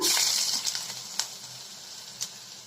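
Chopped ginger and green chilies sizzle in hot oil with mustard seeds and chana dal, a steady close hiss broken by a few sharp crackles and stirring sounds, with no talk.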